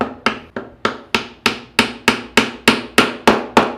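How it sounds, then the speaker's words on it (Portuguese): A mallet strikes a glued wooden joint to drive it into place, about a dozen sharp, evenly spaced knocks close by, each ringing briefly before the next. "Com o macete nós vamos bater para que ele entre e cause pressão."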